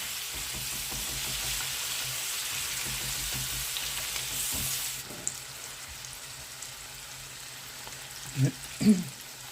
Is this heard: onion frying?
yes